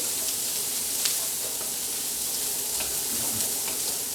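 Fried rice with frozen ingredients sizzling steadily in a hot wok at home, a dense continuous crackle with faint stirring scrapes, close and even throughout.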